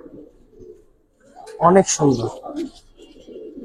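A big Giribaz silver pigeon gives low, soft coos near at hand, partly under a man's nearby speech, with quiet gaps between the calls.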